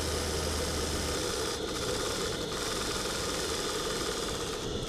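A Monahan Heron live steam engine runs in a model boat launch, giving a continuous close, even mechanical clatter and vibration with a faint low hum early on.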